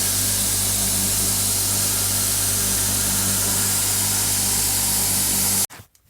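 A Batko3000XL belt grinder runs at full speed with a loud, continuous whir and a steady motor hum for almost six seconds, then cuts off abruptly into near silence.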